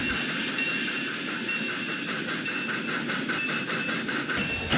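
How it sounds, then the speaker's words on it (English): A train rumbles in steadily with a hissing, rhythmic clatter of wheels on rails, loud and close, with no voices. "Chaz came in with the circus train in tow."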